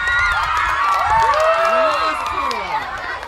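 Parents and children cheer and shout at a school athletics meet held in the street, a loud, dense crowd roar with rising whoops and excited yells throughout.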